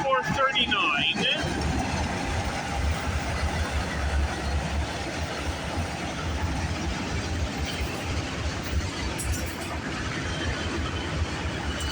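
CPKC freight train rolling past near Milton, Ontario, a continuous low rumble of wheels and engine that stays steady and fairly close for about twelve seconds, with a brief voice at the start.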